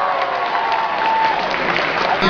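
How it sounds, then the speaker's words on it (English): A crowd at the Summer of Sonic 2016 event applauds with a steady, dense wash of clapping throughout, fairly close and even in level. "One big round of applause."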